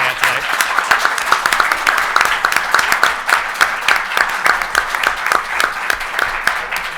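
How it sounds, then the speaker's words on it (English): A live audience gives a panel on transport politics a sustained round of applause, loud dense clapping that holds steady from start to finish. "Just a big round of applause for them for coming out today."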